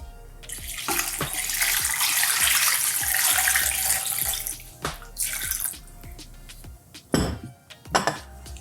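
Water pours steadily into a soup pot, a loud continuous gushing that runs for about four seconds, then stops and gives way to a few scattered drips and knocks.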